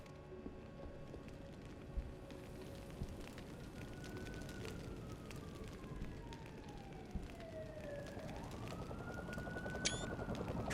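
Police siren in the video game Deus Ex: Human Revolution, a faint, distant wailing tone that slowly falls and then rises again over a low rumbling ambient background, with no talking.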